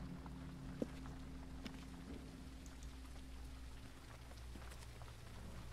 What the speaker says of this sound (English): it sounds like rain like hitting on a tent